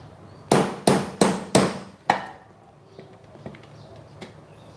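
Four quick, loud hammer blows driving pegs into a camping table, in a steady rhythm, then a fifth, followed by faint scattered taps and light knocks close by.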